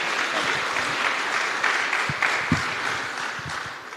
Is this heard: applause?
yes